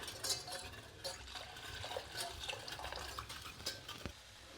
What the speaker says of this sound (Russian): Потом добавлять постепенно воды, тогда не будет комочков.